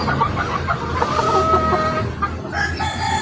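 A Golden Boy street-breed rooster clucks and calls loudly and up close in a backyard, giving a continuous run of throaty, warbling vocalizations with no speech.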